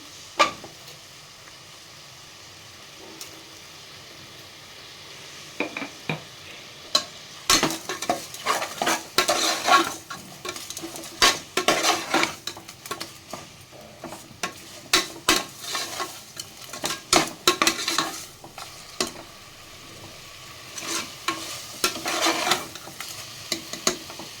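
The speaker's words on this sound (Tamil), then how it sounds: "தக்காளி நல்லா வதங்கட்டும், மசிஞ்சு. அது வரைக்கும் வதக்கிக்கலாம்." Tomatoes and salt are stirred and sautéed in a pan for vegetable biryani: a steady background sizzle broken by repeated scraping and clattering strokes of the spoon, close and fairly loud, with no talking.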